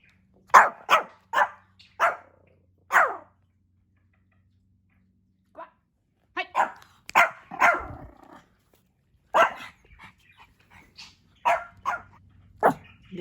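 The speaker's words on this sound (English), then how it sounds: "You don't need to bark" Pomeranian puppy barking in short sharp yaps, a quick run of five, a pause, then further scattered bursts of barks, close and clear with quiet gaps between.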